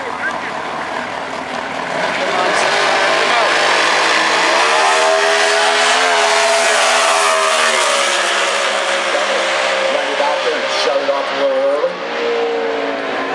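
A Sunfire car at drag races in Pomona, California: a loud engine roar builds and sustains with rising and shifting pitch as the car launches and runs, broad and powerful over open-air track noise.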